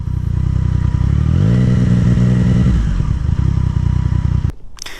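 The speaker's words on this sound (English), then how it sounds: "Let's pull over, get off the bike" A Yamaha MT-09 motorcycle engine runs loud and close, its pitch sliding as it slows and pulls over, then cuts off abruptly near the end.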